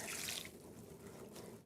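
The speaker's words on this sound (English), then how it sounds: "So I'm going to pour this tea over it" Worm tea being poured over worm bedding in a worm farm tray, a steady close splash of liquid that is strongest at first and then settles into a softer trickle.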